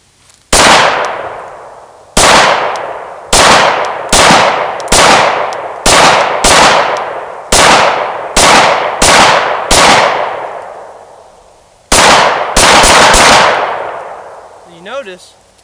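A Glock 19 Gen4 pistol fires a sharp, loud shot, then shots in single and quick double bursts, each with a long ringing decay, outdoors and close to the microphone.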